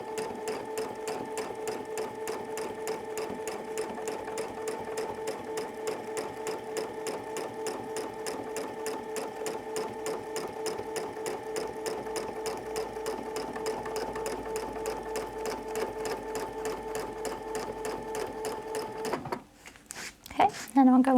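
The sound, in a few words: sewing machine stitching a quilt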